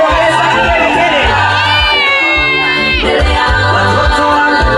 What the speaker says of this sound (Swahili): weka vigelegele kidogo, weka vigelegele